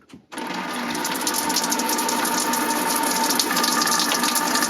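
At a rustic campsite on North Vancouver Island, a tap is turned and water gushes out at once, a loud, steady rushing flow that continues unbroken to the end.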